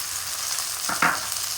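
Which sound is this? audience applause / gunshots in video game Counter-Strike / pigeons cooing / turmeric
turmeric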